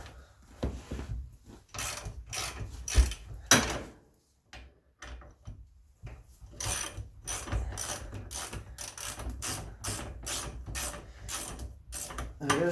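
Brake caliper being removed from a 2012 Polaris Sportsman 850 ATV, heard as bursts of fast ratchet clicking, close and fairly loud, separated by short pauses with no talk.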